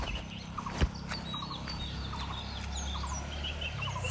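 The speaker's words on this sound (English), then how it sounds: "Look at that bird." Birds calling outdoors in Bangladesh: scattered, chirpy calls at moderate distance, repeating through the stretch over a steady low rumble, with one sharp knock near the start and no talking.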